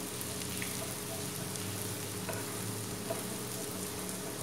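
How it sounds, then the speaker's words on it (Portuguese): Garlic fries in a pan with a steady, crackling sizzle that holds evenly throughout at moderate volume, with a few sharper pops and no voices. "Deu essa fritadinha no alho"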